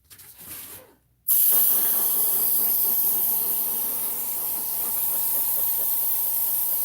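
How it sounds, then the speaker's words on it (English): An air compressor runs in a craft room, a loud, steady hissing roar that starts abruptly after a brief quieter stretch and holds continuously to the end. "I hear you, compressor. It's working just as hard as it can."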